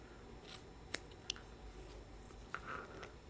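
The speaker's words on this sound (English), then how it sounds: "I like to just go ahead and trim off the excess on each side" Scissors trim excess fabric off a shoulder bag, making a few quiet, crisp snips spaced irregularly over a faint background with no talking.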